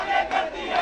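A dense crowd of angry Shiv Sena supporters shouts in unison outside Sanjay Raut's house, a loud continuous roar of overlapping voices with rising chant-like surges.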